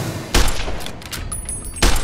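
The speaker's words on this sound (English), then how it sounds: "Sniper rifle." A sniper rifle fires in the video game Fallout: New Vegas, with two loud, sharp cracks about one and a half seconds apart and a brief echoing tail after each.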